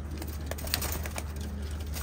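Pigeons in a rooftop loft giving soft intermittent coos and faint calls over a low steady hum, with a high whine running throughout.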